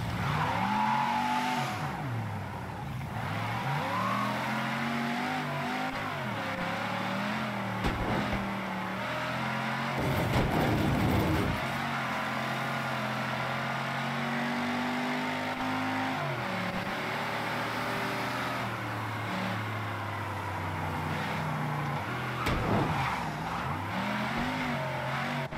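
A car engine in Mafia III drones steadily throughout, rising and falling in pitch as the vehicle accelerates and eases off, with occasional louder surges and faint tire noise, no voices.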